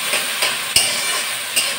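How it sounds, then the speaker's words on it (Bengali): Drumstick flowers frying with mixed vegetables in a pan, a bright steady sizzle broken by four short knocks and scrapes of a spatula. "আর এখন ভাজতে বসিয়েছি আমি ওই সজনে ফুল ভাজা।"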